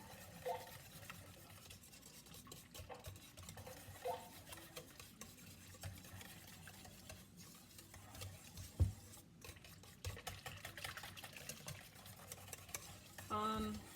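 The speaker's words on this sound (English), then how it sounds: "let's put our water in there. There we go. Let's get this mixed up." A spoon stirs banana snack cake batter made with applesauce and water in a bowl, making soft, intermittent scraping and slapping strokes, fairly quiet and close, with occasional sharper knocks against the bowl.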